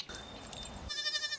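A goat at a goat yoga farm gives a brief, wavering bleat near the end, following a short stretch of soft rustling background noise.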